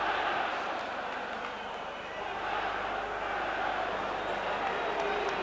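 Football crowd at Elland Road during Leeds v Stuttgart in a UEFA Champions League first-round second leg, a dense, steady roar of massed voices filling the stadium, loud and continuous with chanting swelling throughout.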